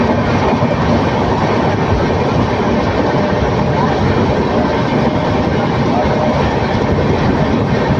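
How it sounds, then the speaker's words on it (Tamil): Passenger train between Coimbatore and Erode gathering speed, a loud, dense, continuous rolling roar with rail clatter heard from inside the carriage. "வண்டி இப்போதாங்க வேகமே வேகமே பிடிச்சிருக்காப்பா"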